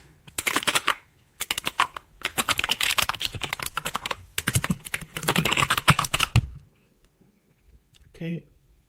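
Rapid typing on a computer keyboard enters a command at a terminal: a dense run of close, crisp key clicks in several flurries with short pauses, then stopping, followed by a faint brief sound.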